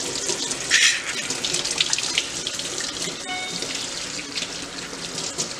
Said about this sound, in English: I let water run over it?